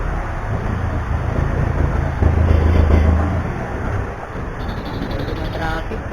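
Steady road traffic noise heard from inside or beside a moving vehicle, a continuous low rumble with wind buffeting that swells briefly midway, with no clear talk over it.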